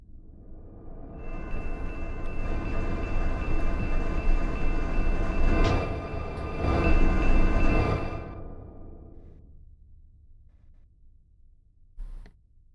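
A train in the Run8 train simulator video game rumbles past, swelling into a loud, dense roll of wheels and cars, then fading away before a short closing thump.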